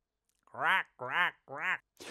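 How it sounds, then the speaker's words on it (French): A crow calling at night on a wooded trail: three loud, evenly spaced harsh caws close by, each about half a second long, with silence between them. "Tom, ce n'est qu'un corbeau."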